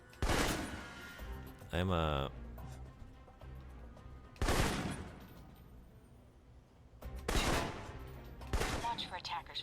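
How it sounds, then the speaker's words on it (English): Assault rifle bursts in the Alpha Protocol shooter game come in several loud, sharp volleys spaced a few seconds apart, with a ringing electronic tone between them and a narrator talking in the gaps. "For long-range encounters, the assault rifle's the key."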